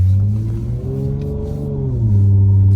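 A V6 Dodge Charger fitted with a throttle pedal box accelerates, its engine producing a loud, close low drone that rises in pitch, eases off briefly, then swells again.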